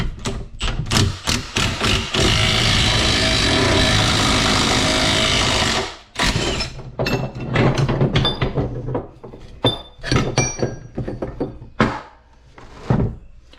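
An OTC ball joint press forces bushings out of a Corvair rear suspension control arm: a sustained, loud mechanical rattle for several seconds, followed by a scattered series of metallic taps, clunks and thuds.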